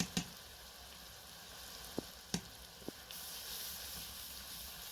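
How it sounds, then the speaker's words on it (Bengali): Onion paste fries in oil with chilli powder for a Bengali prawn curry, giving a soft, low sizzle punctuated by a few sharp clicks and taps of a spoon against the pan. "পেঁয়াজটা কিছুটা ভাজা হয়ে গিয়েছে"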